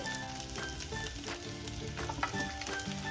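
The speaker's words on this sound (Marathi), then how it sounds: "आपण त्याच्यात जे मॅरिनेट केलेले सोयाबीन आहेत ते आपण यामध्ये" Marinated soybeans go into a pan of frying rice for soybean pulao. A dense, steady sizzle and crackle plays up close along with some stirring, with no talking.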